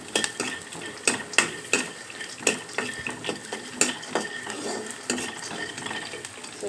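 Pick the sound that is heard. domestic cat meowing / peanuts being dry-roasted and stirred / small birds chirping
peanuts being dry-roasted and stirred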